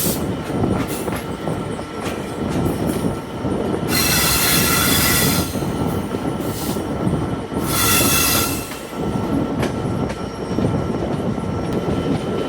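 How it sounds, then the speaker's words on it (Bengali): The Intercity Ruposhi Bangla Express rolls into Bhanga Junction station in Faridpur, heard from on board as a loud, steady rumble of wheels on rails with repeated bursts of high squealing as it slows. "আমাদের ট্রেনটি ভাঙা জংশন রেল স্টেশনের 1 নং প্ল্যাটফর্মে প্রবেশ করছে।"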